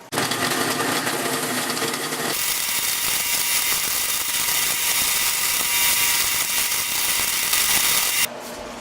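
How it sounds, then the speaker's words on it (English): A drum sander on a drill press whirs steadily for several seconds, grinding against the edges of a wooden cutting board handle with a rough, continuous hiss before spinning down. "I'm going to go around and sand all the edges off and shape it."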